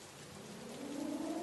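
Steady rain falling, a soft broadband hiss that swells slightly over a second and a half, gentle and even with no voices.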